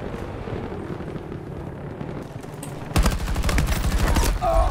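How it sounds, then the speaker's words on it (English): Gunshots in the shooter Battlefield 2042 start as scattered distant fire, then a loud burst of rapid automatic shots erupts close by and keeps rattling to the end over ambient battlefield noise. "I shot him 5 times in the head."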